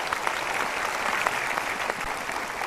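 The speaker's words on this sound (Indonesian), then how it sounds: "Kita berikan tepuk tangan dulu untuk mereka." Studio audience clapping steadily at a talk show, a dense even wash of applause lasting throughout with no voices over it.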